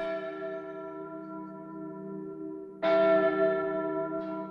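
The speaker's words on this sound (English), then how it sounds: "All other times, bells called the women to work." A mill bell tolling to call women workers to work, a sustained ringing tone with a second louder strike partway through that rings out and slowly decays, alone without voices.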